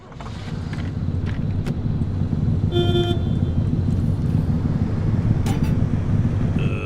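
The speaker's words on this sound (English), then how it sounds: "Engine's not doing good." A car engine drones steadily while driving in the video game Pacific Drive, the engine in poor condition. A low continuous rumble carries brief tonal horn-like toots and rattles on top, with no talk.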